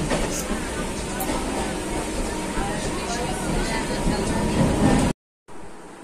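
Passenger train sitting at a platform before departure, with a steady broadband rumble and station hubbub throughout, voices murmuring in the background, then a brief cut to silence near the end.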